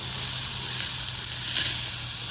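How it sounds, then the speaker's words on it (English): Ribeye steaks searing on a hot cast iron griddle over a Weber Jumbo Joe grill make a loud, steady, close hiss and sizzle that barely changes, with no voices. "Oh yeah, that's a nice sear."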